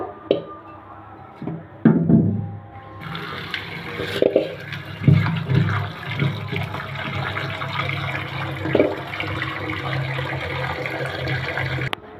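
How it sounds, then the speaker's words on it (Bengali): Cut spiny gourd (kakrol) being washed with water in a kitchen: running water starts after a few knocks and handling sounds, with splashes and sloshing as the pieces are rinsed, close and continuous. "এখন এটা ধুয়ে ভালো করে পরিষ্কার করে নিব"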